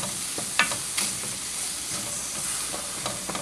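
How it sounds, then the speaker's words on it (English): Onion and curry stirred in a pot for red lentil soup, a continuous frying hiss broken by a few spoon clinks and scrapes, close and unaccompanied by talk. "Stir in that onion and that curry."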